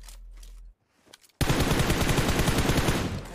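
Gunfire in PUBG Mobile that bursts in abruptly after a short near-silence, then a dense sustained rattle of rapid shots continues loudly to the end.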